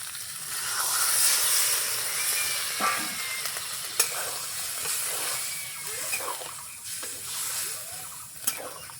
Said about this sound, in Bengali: আলু আর সয়াবিন ভালো করে কষানি হয়ে গেছে, এখন দিয়ে দিব ঝোলের জন্য জল।